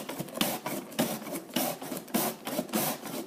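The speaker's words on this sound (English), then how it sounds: "I like the cabbage to be super fine" A knife slices cabbage very finely on a board, giving a quick series of crisp, rhythmic cutting strokes close up with no voices.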